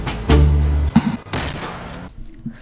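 A gunshot from Franklin running in GTA V, a sharp loud crack followed by a second burst a moment later, with rumbling game sound between and no talking.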